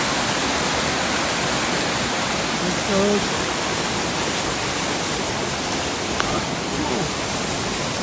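Waterfall in a deep-snow landscape, a steady broadband roar of falling water that fills the whole clip at even loudness, with a brief spoken remark near the start.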